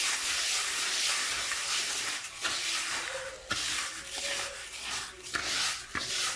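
Steady soft rubbing and hissing as couscous grain is worked by hand with sunflower oil, a continuous close gritty rustle with brief pauses.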